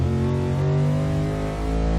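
A Lexus IS F in a racing video game revs hard at full throttle, its engine note loud and close with steady harmonics climbing, a continuous unbroken roar throughout.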